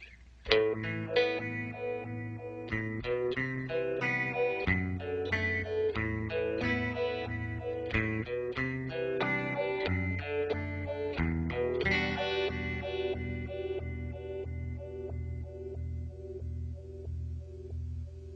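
A distorted electric guitar plays through an Electro-Harmonix Stereo Polyphase phaser with square-wave modulation that shifts in abrupt steps, giving a choppy, pulsing tone for a long stretch without voices.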